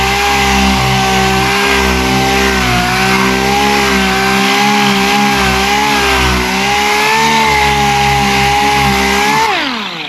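Dual action sander working over scratched gelcoat with 220 grit, a loud continuous whirring motor drone with slight pitch wobble that winds down at the end.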